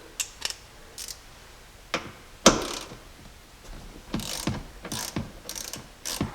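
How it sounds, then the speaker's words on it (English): A ratchet works a T45 Torx bolt that holds the seat belt in a 2006–2009 Ram truck interior, giving short bursts of close, crisp pawl clicks with brief pauses between strokes. "we got a T45 Torx bolt holding the seat belt in"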